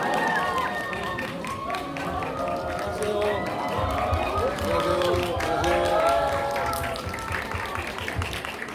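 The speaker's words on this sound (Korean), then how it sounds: "큰 박수와 환호 부탁드립니다." A theater audience at a film stage greeting at a CGV cinema bursts into sustained applause and cheering, a dense steady roar of clapping and voices lasting throughout.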